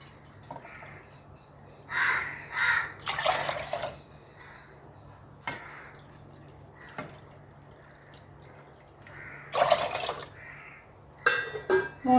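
Water splashes and pours in several short bursts into a metal pressure cooker, measured by the bowlful, with faint clinks and quiet gaps between pours.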